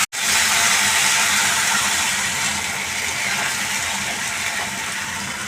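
A mixture of soy sauce, tomato sauce and vinegar poured into a hot pan for chilli chicken, giving a loud, steady hissing rush that starts abruptly and holds throughout with no talking.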